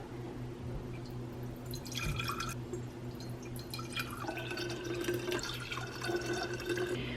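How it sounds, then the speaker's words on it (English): Purified water is poured into a container holding a little ginger and turmeric juice, a steady trickling and splashing stream that runs for several seconds and grows fuller as it fills. "I just fill the rest of the container with purified water"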